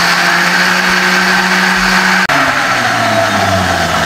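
A kitchen blender grinds mango ice cream ingredients in a loud continuous whir, with a brief click partway through as the motor note drops lower.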